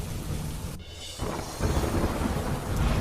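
Thunder rumbles through heavy, steady monsoon rain pouring down in rural Gujarat, with a brief lull before the downpour swells louder again.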